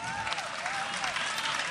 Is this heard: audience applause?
yes